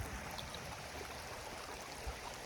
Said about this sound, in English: Oh, all the water is coming up from the waterfall.